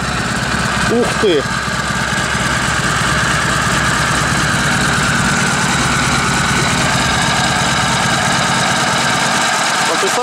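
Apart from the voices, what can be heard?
motorcycle engine starting and idling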